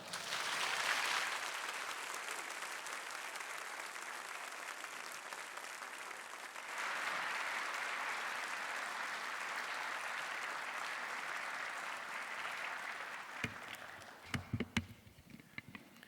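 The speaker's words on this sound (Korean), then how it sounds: "한옥 목사님을 사랑과 존경과 감사의 박수로 모시겠습니다" A church congregation at a workers' mission rally applauds a pastor onto the stage, a steady wash of clapping that lifts partway through and breaks into a few scattered claps and knocks as it ends.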